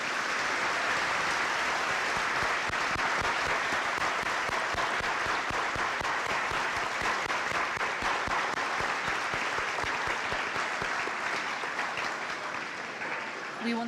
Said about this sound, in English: Please share your applause in honor of our veterans and those currently serving.